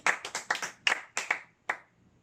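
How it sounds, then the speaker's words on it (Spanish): Congregation in a church clapping in a loose, uneven burst of about eight sharp handclaps, fairly close and moderately loud, tapering off into quiet. "Démele ahí donde está un aplauso a mi Señor Jesucristo"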